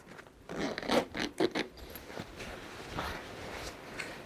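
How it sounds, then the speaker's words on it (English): A zip is drawn up in several quick, rasping pulls on a Savotta 4-litre vertical pouch stuffed with a sleeping bag, the strokes close and crisp, followed by softer rustling and fabric handling. "pull the zip up a little bit."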